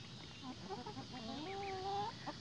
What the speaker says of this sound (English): wondering why all these turkeys are in here with these chickens.